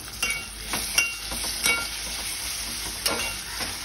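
Chopped tomato frying in hot oil with softened onion for a spicy Agri-style dried-fish curry, a steady bright sizzle broken by several sharp scraping stirs of a spoon against the pan, close and fairly loud.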